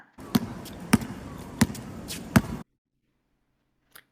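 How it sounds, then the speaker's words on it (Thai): A ball bounces on a hard floor four times at a steady, even pace, each thud sharp and close, followed by silence and one faint tap at the end. "อันแรกคือเสียงเดาะลูกบอลนนั่นเองค่ะ"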